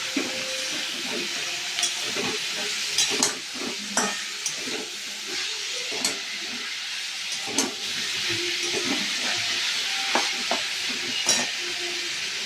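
Bottle gourd peel and potatoes, fried with salt and turmeric, hiss steadily in a pan while a spatula stirs them, giving repeated close scraping knocks over the constant sizzle.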